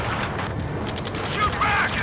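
Rapid bursts of video game gunfire from Ace Combat crackle through a busy battle scene, repeated shots stacking into a dense fusillade under shouted voices.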